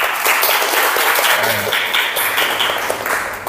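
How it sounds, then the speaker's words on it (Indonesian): Classroom applause from a group of students, a steady wash of many hands clapping together, moderately loud and close, sustained for a few seconds with a murmur of voices underneath. "tepuk tangan untuk kita semuanya"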